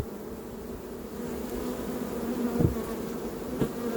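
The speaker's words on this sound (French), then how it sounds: "Là, les abeilles partout." A dense, steady hum of a swarm of honey bees buzzing together fills the air, with an occasional bee passing close by.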